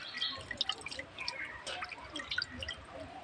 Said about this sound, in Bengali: প্রথমে মাংসটা ধুয়ে নেব